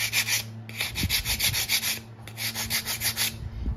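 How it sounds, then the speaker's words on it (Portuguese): Belt sander smoothing and polishing wood for a mini forklift pallet, a steady close grinding whir with rhythmic pulsing strokes as the piece is worked across the belt. "depois você volta na lixadeira, né, tipo a lixadeira de cinta, pra você polir a madeira"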